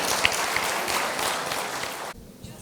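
Audience applause welcoming a guest speaker at a business event, a steady wash of clapping that stops abruptly near the end.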